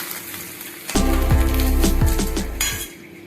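Cooked guava leaves scraped from a pan onto a plate, a short run of metallic clinks and scrapes over a faint sizzle, close by.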